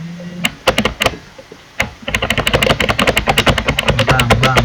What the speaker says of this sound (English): we need to press the enter key on my keyboard more times until we reach to the bottom